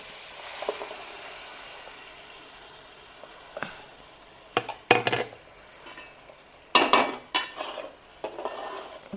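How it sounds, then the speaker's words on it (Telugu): Ground tomato juice going into fried onion paste in a pan for tomato soup, with a soft hiss and scattered metal clanks and scrapes of a utensil, louder bursts near the end, and no talking. "ఇప్పుడు టమాటో జ్యూసు మనం రుబ్బు ఉంచుకున్నాం కదా అది వేసేసుకోవాలి"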